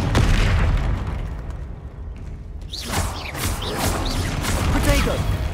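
Spell blasts and magical explosions from the video game Hogwarts Legacy, several loud bursts and crackling impacts that come in quick succession after a brief lull, mixed with the game's sound effects.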